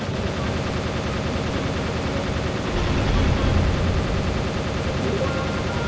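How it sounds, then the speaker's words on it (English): A plasma cannon fires in the StarFox Assault video game during a battle on the stormy planet Fichina. Dense, rumbling blasts run continuously and swell louder for about a second midway through, amid the roar of combat. "Fox, use the plasma cannon!"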